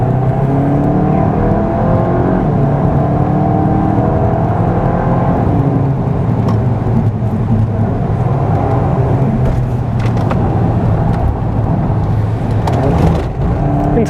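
A Volkswagen Golf, Mk8 GTI Clubsport or tuned Mk7.5 Golf R, drives hard on a race circuit, its engine droning loudly and continuously from inside the car as the pitch rises and falls through gear changes, without talk.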